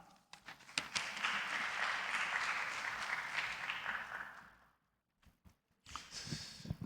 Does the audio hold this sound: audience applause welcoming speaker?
yes